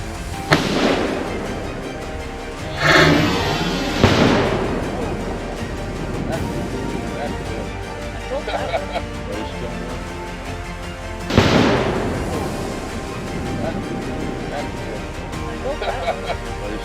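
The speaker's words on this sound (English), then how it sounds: "That's 4 1-pound bricks of Tannerite we've stuffed in this tree exploded" Tannerite packed into a 60-foot oak tree detonating outdoors, with several sharp, loud blasts followed by long rumbling decays amid scattered crackles, and people talking between the explosions.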